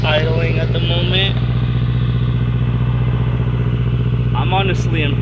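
A 2017 Subaru Crosstrek idles with a Nameless 5-inch axleback exhaust, a steady low drone throughout, with someone talking over it at start and end.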